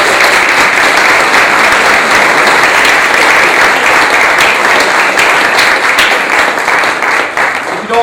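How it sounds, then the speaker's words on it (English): Wedding guests at Redworth Hall applaud the bride with loud, close, sustained clapping from a full room, the sound staying dense and steady for about eight seconds. "Please give a nice big round of applause for the bride."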